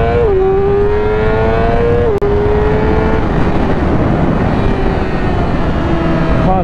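A 2015 Yamaha R6 sport motorcycle revs hard, its high-pitched engine note climbing, dropping sharply at a quick gear change, then droning on loud and close.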